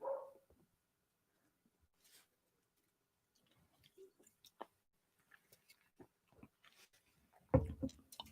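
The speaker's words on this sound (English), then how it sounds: "that's probably why he's barking" A dog gives a short bark at the start, followed by quiet, sparse clicks and shuffling sounds and a louder thump near the end, all fairly faint in a quiet room.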